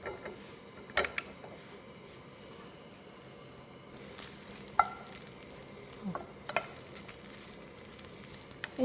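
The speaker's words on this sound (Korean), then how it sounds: "이렇게 소세지 구워보도록 할게요." Sausages sear in a dry pan with no added oil. The sizzle is faint and soft, broken by occasional sharp clicks and taps from a utensil.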